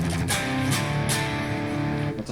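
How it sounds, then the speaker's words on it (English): Strummed electric guitar runs through the Distortion Plus crunch setting of a Flatsons KMF-1 multi-effect pedal, with a few sharp pick attacks over ringing, gritty chords. "That's an old school crunch sound right there"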